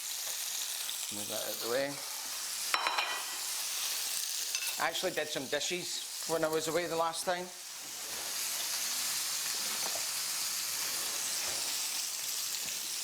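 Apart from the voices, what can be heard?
meat searing and sizzling in a hot pan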